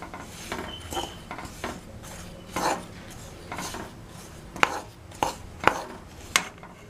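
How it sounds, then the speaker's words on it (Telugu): A spoon stirs grated jaggery melting in a pan over medium-low flame, giving irregular scraping and rasping strokes with a few sharper knocks against the pan, close and fairly loud. "ఇలా కరుగుతున్నప్పుడు అడగంటకుండా కలుపుకోవాలి"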